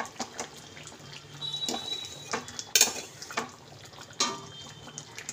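A pot of boiled potatoes is lifted off the stove, with scattered metallic clanks and scrapes of cookware, one sharper knock midway, over faint kitchen background.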